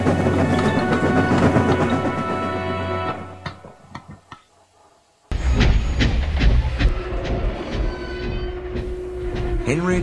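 An animated diesel engine pulls away and runs along the rails: loud, steady train rumble and clatter that dies away to near silence mid-way, then returns abruptly at full loudness with a rolling clickety-clack.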